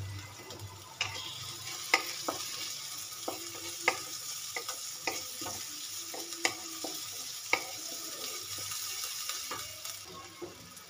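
Grated ginger and garlic fry in a pan for a bitter gourd dolma dish, a low sizzle under repeated light clicks and taps of a spatula stirring against the pan.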